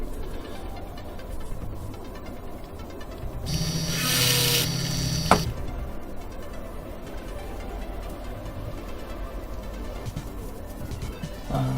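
A drill bit on a mini lathe whirs steadily for a second or two, then stops with a sharp click. Quieter rubbing and scraping sounds fill the rest.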